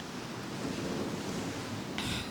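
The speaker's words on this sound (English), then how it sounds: "See, the waves are calling." Ocean waves wash onto a beach in a soft, continuous broadband hiss with a little wind noise. The sound is fairly faint and steady, with no voices.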